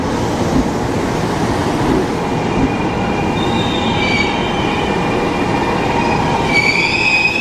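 Former Tokyo Metro 5000-series KRL electric commuter train running on the last late-night service toward Kampung Bandan, a steady loud rolling rumble with high, drawn-out wheel squeals rising near the end.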